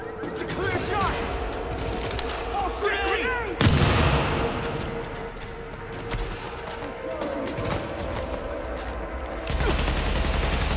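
Gunfire from the video game Tom Clancy's The Division, a steady run of rapid shots with sharp bursts layered throughout, loud and continuous, with voices talking over the shooting.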